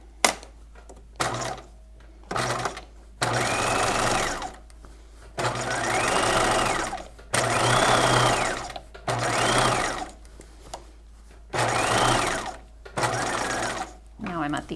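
A sewing machine stitches a bodice sleeve seam in short repeated bursts, whirring on and off with brief pauses between runs, close and clear.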